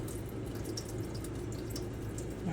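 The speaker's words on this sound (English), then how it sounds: "So I'm going to drain. So y'all can see me drain." Water pours off a pot of boiled lima beans being drained into a sink, a continuous splashing rush, close and steady throughout.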